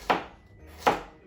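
Two crisp knife chops slicing carrots in half on a cutting board while making a minced beef pie, evenly spaced about three-quarters of a second apart, close and alone with no talk.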